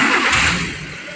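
Car engine turned over by the starter during a check of the charging system and alternator, a short loud burst of cranking and firing that fades within about a second.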